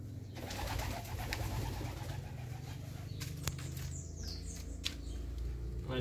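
Pigeons in an aviary give soft low cooing calls over continuous background chatter and rustling, with a few sharp clicks and brief flutters, faint and close.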